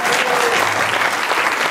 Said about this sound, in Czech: Veľký potlesk pre Jožka Jozefa Formana ze Zlína